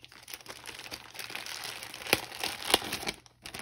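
A small plastic baggie crinkles during a craft kit haul unboxing, a steady soft rustle near the microphone broken by two sharper crackling snaps toward the end, with no talk.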